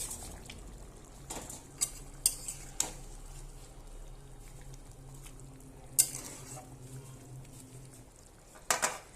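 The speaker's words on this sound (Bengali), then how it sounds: "এবার আমি মাছগুলা দিয়ে দেবো" Pieces of hilsa fish dropped into a simmering curry with raw green banana and potato, soft bubbling and stirring punctuated by several sharp clinks of a utensil against the pot, fairly quiet and close.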